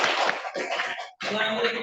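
Classroom applause for a student group, a burst of dense clapping from many hands, briefly thinning, then a short pause and another round of clapping, with voices mixed in.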